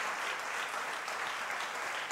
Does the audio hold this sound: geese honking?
no